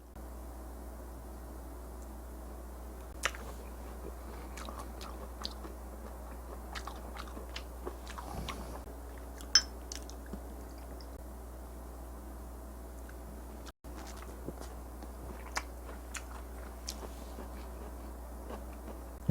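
Firm, springy meat being chewed up close, with soft repeated bites and crunchy clicks spread over a quiet, steady background hum.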